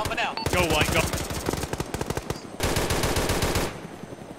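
Sustained automatic machine gun fire from a military video game, a mag dump: dense rapid bursts of loud, close shots with a brief pause, then another long burst.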